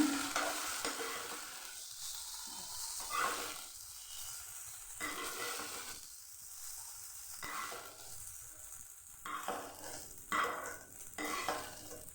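Oil crackles and sizzles steadily as okra fries in a pan, rising and falling in bursts with occasional stirring scrapes, close by and moderately loud, with no voices.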